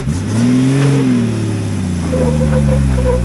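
An off-road vehicle crawling over rocks on the Rubicon Trail, its engine revving loudly up and down close by with a rising and falling whine, alone without voices.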